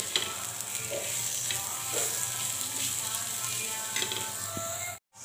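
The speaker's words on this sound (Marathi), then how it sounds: "ही शेंगदाणे आपली चटणी खरपूस अशी भाजून घ्यायची मस्तपैकी" Peanuts dry-roasting in a pan for shengdana chutney, crackling and sizzling steadily throughout, with light scraping from stirring and a sharp pause near the end.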